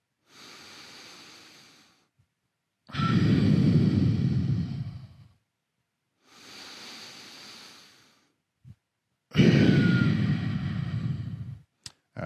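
Deep, slow yoga breaths during a held stretch, heard close up in four separate drawn-out breaths with near-silent pauses between them, the second and fourth noticeably louder and fuller.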